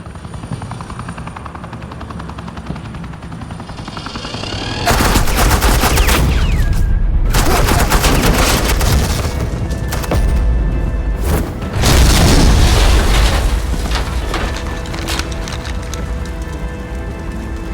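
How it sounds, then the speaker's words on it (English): Heavy gunfire and explosive blasts in the Batman: The Enemy Within video game come in after a quieter rumble, in two loud sustained bursts with a brief gap between them and dense rattling throughout. "Suppressing fire."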